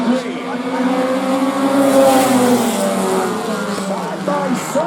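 Race cars roar into turn 4 on a track at the Freedom Factory, engines loud and rising and falling in pitch as several cars pass close together, with a commentator talking over them.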